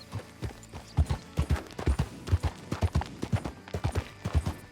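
A horse's hooves clip-clop at a steady walking rhythm in Red Dead Redemption 2, crisp, close and evenly spaced, with faint creaks of tack underneath and no talking.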